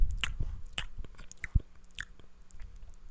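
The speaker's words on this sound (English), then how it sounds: "The noises you're making with your mouth." Wet mouth chewing and biting sounds, close and intimate, with irregular smacks and crunches and no talk.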